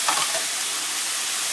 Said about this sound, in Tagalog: So halos gisa lang lahat ng gulay hanggang sa halo-haloin lang ng konti yan